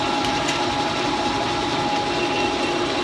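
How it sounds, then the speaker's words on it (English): A Leblond 19-inch lathe runs with its spindle turning, giving a steady, even mechanical drone and hum with a faint whine on top. There are no voices or pauses. "the spindle seems to run pretty quiet and pretty true"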